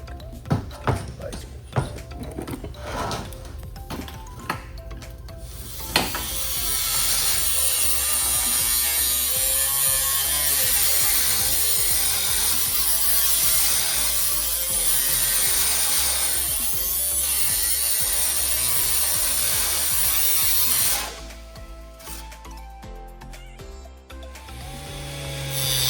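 A power cutting tool slices the metal lip out of a 1938 Hudson car body, starting with a few short bursts and then settling into a long, loud, harsh grinding run before tapering off near the end.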